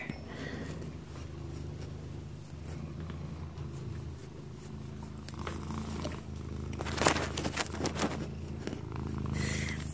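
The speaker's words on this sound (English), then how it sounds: "What a sweet, soft purr you have." A cat purrs steadily in a low continuous rumble throughout, close and intimate, with faint rustling and brushing noises layered over it near the end.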